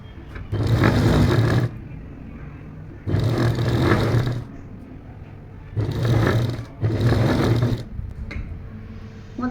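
A sewing machine stitches a seam in straight-cut pant fabric, running in four loud bursts of steady mechanical whirring, each about one to two seconds long, separated by short pauses.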